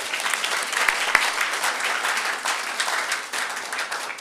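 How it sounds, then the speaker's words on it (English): Applause fills a school board meeting room: a crowd claps steadily and loudly for an honoree, with a few sharper individual claps near the start and a brief dip before it swells again. "Let's give him a big round of applause."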